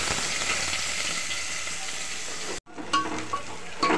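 Sliced onions frying in hot oil with cumin seeds in a home kitchen pan, giving a steady close sizzle that cuts off sharply, then resumes with light clinks and stirring.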